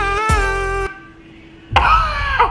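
Cough added to an AI-generated Patrick Star singing voice, a loud single cough breaking a sustained sung tone, after which the voice resumes.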